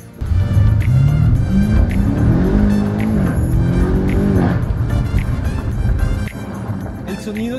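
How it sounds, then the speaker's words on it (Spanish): A BMW M5 Competition sports sedan engine roars loudly through open exhaust valves, revving up and down in rising sweeps with crackling pops. "activa las válvulas de escape y suena, la verdad, una cosa absurda"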